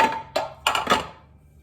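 Calphalon skillets and cooking pans being handled, a few sharp metallic clanks and knocks in quick succession, close and fairly loud, then fading to quiet.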